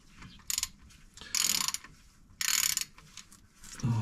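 Ratcheting clicks from a wrench working at a tight gearbox oil drain plug on a Morris Minor convertible, coming in three loud, close bursts with quieter scraping between them.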